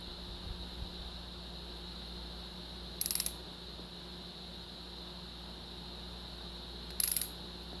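Torque wrench ratcheting as diesel injectors are torqued on a 7.3 engine build: two short, crisp bursts of rapid clicks about four seconds apart, close by over a steady background hum.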